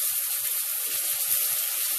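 Liquid poured slowly into a very hot pan while making gravy from scratch, giving a steady, close hissing fizz with soft bubbling and water-like splashing throughout, no voices.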